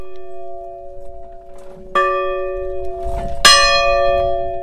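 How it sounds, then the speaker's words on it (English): A church bell in the quiet bayou countryside of Louisiana strikes twice, each ringing tone bright and loud, then hums away slowly in a long fading resonance with no other sounds. "a church bell fills this peaceful bayou countryside."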